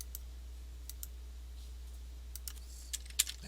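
Scattered computer keyboard keystrokes and clicks while cutting and pasting text, faint, irregular taps over a low steady hum, with no speech.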